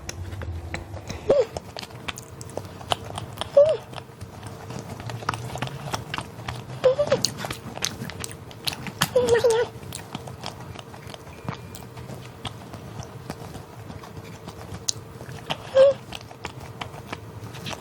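Quiet, close bites and chewing of yakgwa, a Korean honey cookie, with occasional sharper crunchy clicks spread across steady soft mouth sounds and low background hum, with no talking.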